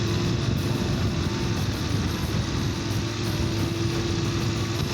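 A Voge DS900X motorcycle engine pulls under a light throttle, a steady, loud drone running alone without a break.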